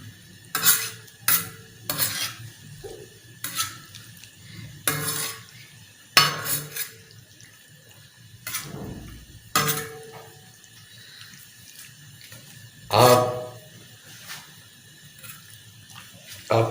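Mutton liver fries on a tawa with no butter while a takatak spatula stirs it, giving repeated sharp metallic scrapes and clacks over a faint sizzle, with quiet gaps between strokes.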